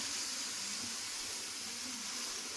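Pumpkin leaves on a hot, dry griddle give off a steady, even hiss like light sizzling. The sound is continuous and close, with no voices.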